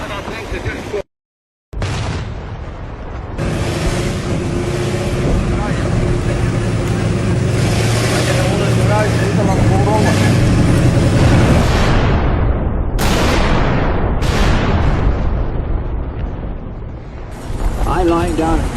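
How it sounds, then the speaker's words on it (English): A WWII artillery and mortar barrage roars near a roadside cornfield and hedges, a loud sustained rumble of blasts with sharp bursts and descending whistles, broken by a brief silence near the start. "this terrific barrage goes on around us"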